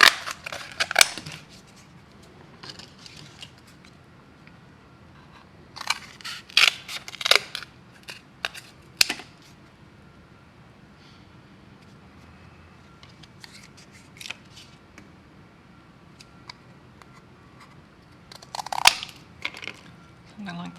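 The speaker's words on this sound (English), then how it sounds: "I'm just trimming this because the cardboard is a little bit squished" Scissors trim slightly squished cardboard, with scattered bursts of sharp, close snips and crunches separated by quieter pauses, and faint talk in places.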